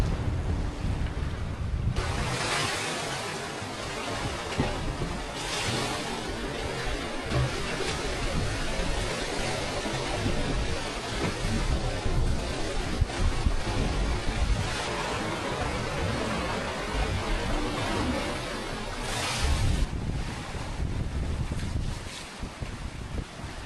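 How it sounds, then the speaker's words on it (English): On a Nautitech 40 catamaran heading up into waves in 19-knot true wind, a constant roar of wind buffets the microphone, with water rushing and slapping against the hull throughout. "We're heading kind of up into the waves, unfortunately."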